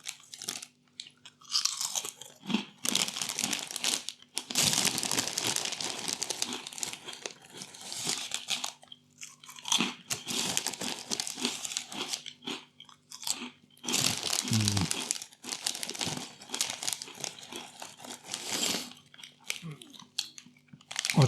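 Crunchy Walkers Wotsits Extra Flamin' Hot being chewed close up, with loud crunching bites and bursts of crinkling from the snack bag, arriving in irregular clusters with brief pauses between.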